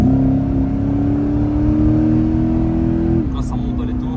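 A Chevrolet Corvette C8 Stingray revs its engine as it accelerates, giving a loud, steady drone heard from inside the car with a slightly rising pitch that drops as a shift comes near the end.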